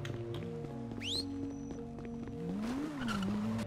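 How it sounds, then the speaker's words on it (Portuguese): Car engine tones rise and fall in a role-play driving game, a steady drone with shifting pitch and a brief squeal, heard faintly beneath other game sounds. "Ó, tem um barulho de carro aí"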